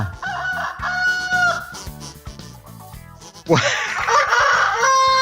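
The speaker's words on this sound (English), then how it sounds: "that was a very cheap rooster" A rooster crows loudly and nearby in a long, warbling call, followed by a second, brighter crow rising sharply at the end.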